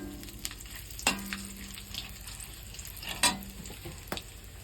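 Bay leaf, whole garam masala and dried red chili tempering in hot oil for a vegetarian potato curry, a soft steady sizzle broken by a few sharp utensil knocks and clinks, close by with no voices.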